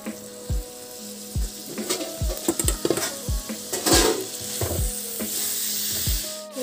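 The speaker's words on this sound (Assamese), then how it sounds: "আমি এতিয়া এইখিনি অলপ সময়ৰ কাৰণে ভাজি ল'লোঁ" Sliced mushrooms and spices sizzle steadily in a hot pan, with a spatula repeatedly scraping and knocking against the metal as the ingredients are stirred, close and clear with no talking.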